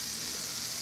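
Steak frying in a pan on a low stove setting, giving a steady, even hiss of sizzling fat throughout with no voices.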